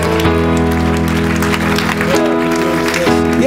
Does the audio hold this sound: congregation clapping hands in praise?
yes